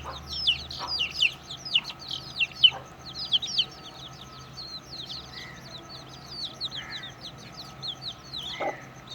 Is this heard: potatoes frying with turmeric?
no